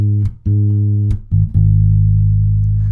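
Deep bass guitar notes ring out in a short rhythmic pattern, a few plucked notes then one sustained tone held to the end.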